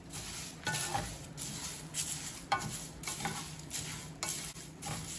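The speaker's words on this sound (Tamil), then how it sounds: "அப்படியே அப்படியே எப்படி மொட மொடன்னு சத்தம் கேட்குது" Lentils and whole spices dry roasting in a pan for a sambar, rasam and fish curry powder, crackling and popping close up while a spoon stirs and scrapes in repeated strokes.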